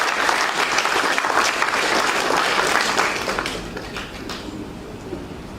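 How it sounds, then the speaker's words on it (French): A crowd at the final of a speaking contest applauds their mentor with loud, dense clapping for about three seconds, then it thins into softer scattered claps that fade away. "Je vous demande d'applaudir notre très cher mentor, Jay Ibrahim Samba Moudi"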